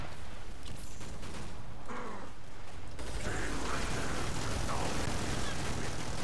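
Gunfire in the video game Killing Floor 2 comes as bursts of rapid shots and mechanical clatter amid a busy, noisy mix of game sounds, continuing throughout at moderate loudness.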